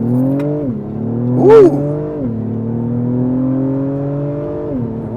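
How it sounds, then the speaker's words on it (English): A 2024 Acura TLX Type S with a 10-speed automatic launches hard from a standstill, its engine note climbing and dropping through quick upshifts over about five seconds, with a brief exclamation from a voice inside the cabin. "Let's see how it launches, why don't we?"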